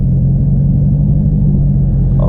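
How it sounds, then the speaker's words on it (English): A BMW i7 car rolls past with a loud, steady low rumble that holds for the whole stretch, with no talk. "BMW i7."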